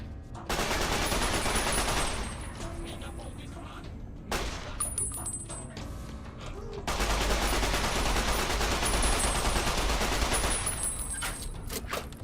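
Sustained, dense video-game gunfire, with bursts of rapid shots sounding loud and close, a brief lull near the middle, then another long barrage.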